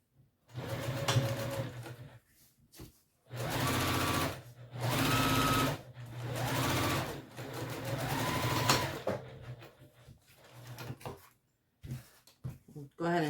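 A sewing machine top stitches a messenger bag in several runs of steady, loud mechanical whirring, each a second or two long, separated by short pauses.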